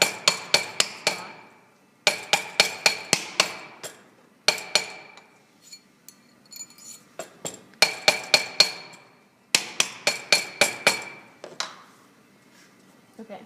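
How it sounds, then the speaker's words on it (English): A metal ring is hammered to texture its surface: sharp, ringing metallic taps come in quick bursts of six or seven strikes, separated by short pauses, close and loud. "I would keep hammering until it's all the way around"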